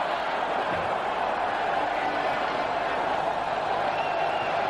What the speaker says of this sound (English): it's nice to see enough of a crowd in here to create a wave